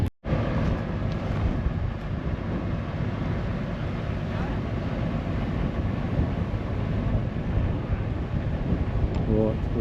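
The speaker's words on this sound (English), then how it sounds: "So we're getting the Versatile warmed up and disconnecting that ripper" A Versatile tractor engine warms up with a steady, loud, low rumble that runs unbroken and close, with some wind buffeting on the microphone.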